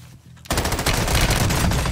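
A video game gunfight breaks out with a sudden loud, rapid burst of automatic gunfire that keeps rattling without a pause after a brief quiet lead-in, close and dense with overlapping shots.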